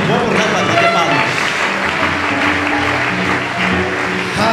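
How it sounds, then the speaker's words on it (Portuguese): An audience at a church camp session applauds in a dense, steady wash of clapping that runs throughout, with voices talking over it. "É uma boa para fazer palmas"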